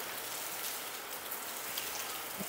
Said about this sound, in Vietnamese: Mưa nãy giờ gần cả tiếng đồng hồ mưa da quá trời dai luôn